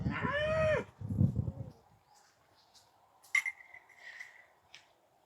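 A Jallikattu bull lows with a few short, loud, close moos at the start, then faint scattered sounds that could be birds or insects at an outdoor farm.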